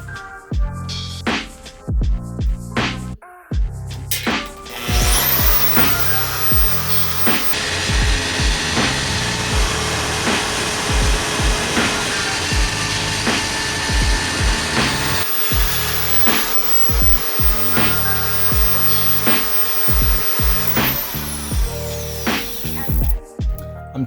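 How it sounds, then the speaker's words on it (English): A Portaband portable bandsaw on a Swag Off Road stand cuts a metal subframe piece, a steady loud grinding whine sustained for about twenty seconds, with clunks and handling noises before and after the cut. "to the bandsaw we go."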